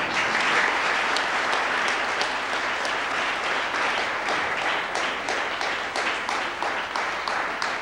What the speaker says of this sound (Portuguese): As palmas para ti.